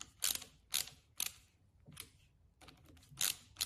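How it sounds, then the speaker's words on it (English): A ratcheting magnetic screwdriver from an Ironcube 56-piece kit clicks in short bursts of rapid ratchet ticks, five or six quick clusters spaced unevenly, close and quiet with no talk. "Here it is in use with the ratcheting head"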